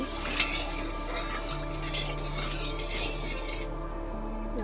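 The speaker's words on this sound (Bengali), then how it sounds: "একটু নাড়িয়ে মশলাটা মিশিয়ে দিচ্ছি" Masala loosened with a little water is stirred in a pan over a raised flame before fried pointed gourd goes in. It makes a low steady bubbling hiss with occasional faint scrapes of the spoon.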